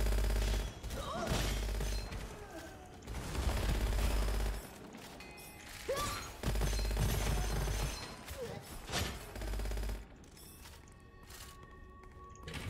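Sub-machine gun fire in the shooter game Gunfire Reborn, with loud, dense automatic bursts rattling almost continuously and brief pauses between volleys.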